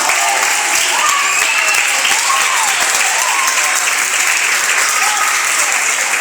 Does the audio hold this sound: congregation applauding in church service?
yes